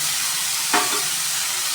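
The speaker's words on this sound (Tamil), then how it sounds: "பூசணிக்காய் சேர்த்து ஒரு வதக்கணும்." White pumpkin sautéing in a pan for sambar gives a short sizzling hiss near the middle, a single brief burst of frying against a steady background hiss, with no talking.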